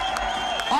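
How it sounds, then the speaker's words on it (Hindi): An audience at a stage event claps continuously, a dense wash of applause with faint cheering, while a host speaks over it. "इन्हीं तालियों के साथ, तालियां कम नहीं होनी चाहिए"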